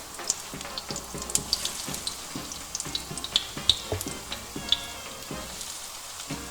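Courgettes frying in oil in a pan at medium-high heat, giving a steady close sizzle broken by frequent small pops and crackles throughout, with no talking.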